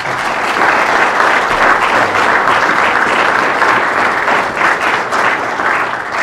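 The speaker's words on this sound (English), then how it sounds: "So if we could give them one more round of applause." A luncheon crowd at a state legislative review gives steady, full applause, an even wash of many hands clapping without pause.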